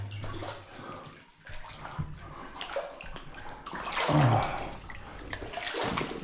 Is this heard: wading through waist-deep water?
yes